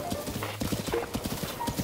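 Horse hooves clip-clop in a quick, steady rhythm while riding in a Zelda game, with a faint whinny near the end.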